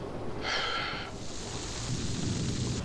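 Steady rain with a low rumble of thunder, a brief hissing burst early on, continuous and fairly loud throughout with no voices.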